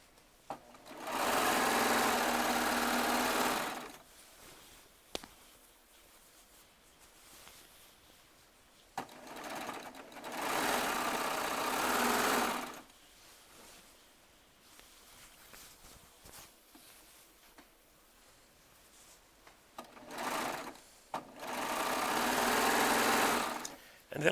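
A Baby Lock Triumph serger stitches charm squares together in three loud, steady whirring bursts separated by quiet pauses, with small clicks and fabric handling between runs.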